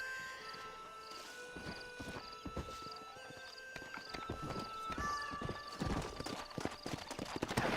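Horses gallop in a race in the Red Dead Redemption video game: rapid clip-clop hoofbeats build and grow louder, with a whinny and a steady musical tone underneath.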